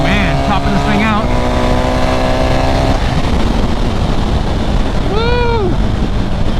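A 2024 BMW R 1300 GS motorcycle climbs toward top speed, its engine note rising in tone and then giving way to loud roaring wind rush that dominates the rest.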